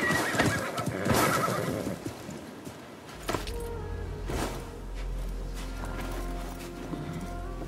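A horse in Assassin's Creed Mirage whinnies loudly near the start, followed by a lower snort and clatter over a steady rumbling background with faint tones.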